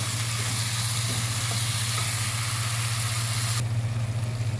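Moringa (drumstick) leaves fry in a pan with coriander, giving a steady broadband sizzle under a constant low stove hum, with no talk.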